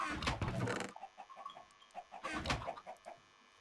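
Chickens cluck in Minecraft, a close burst of sharp clucks followed by a scattered series of softer clucks, then another loud flurry near the end, with no talk.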